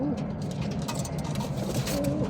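Pet pigeons coo in low, throaty repeated calls close by, with faint background noise and no talking.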